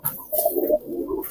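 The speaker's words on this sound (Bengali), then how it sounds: "লাল পায়ের কবুতর।" A red-footed pigeon gives a short, close coo, a few soft throaty notes rising and falling over about a second, alone with no talking.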